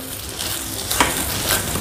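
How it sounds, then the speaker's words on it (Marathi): Sabudana (tapioca pearls) are stirred into a hot pan, making a near, continuous sizzle with a few scraping strokes of the spoon through the mixture. "आता साबुदाणा टाकते, मिक्स करते"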